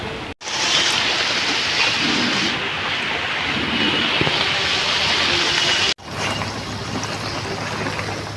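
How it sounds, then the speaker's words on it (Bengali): Light rain falls steadily outdoors as a continuous broad wash of noise, briefly cut off twice, with a faint low rumble underneath. "বৃষ্টি পড়ছে টিপ টিপ টিপ টিপ করে"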